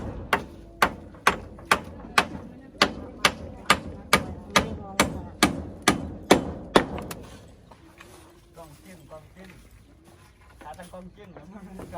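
Nails being driven by hammer into the back of a wooden structure, a rapid steady series of about sixteen sharp close strikes that then stop, leaving quiet background with faint voices.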